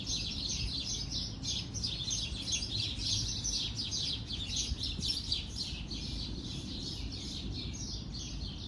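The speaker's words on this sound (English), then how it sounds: "here come all of the damn birds" Many birds chirp and tweet continuously in a dense, busy chorus, with a steady low rumble of background noise underneath.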